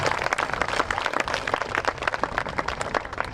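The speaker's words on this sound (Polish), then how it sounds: "Przywitajmy brawami." Dense, steady applause from an outdoor crowd welcoming performers at a parish festival, loud and continuous with no gaps and no voices above it.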